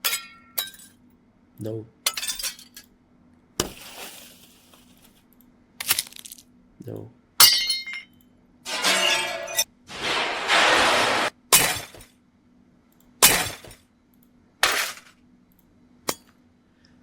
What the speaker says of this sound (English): let's go ahead and get some glass shattering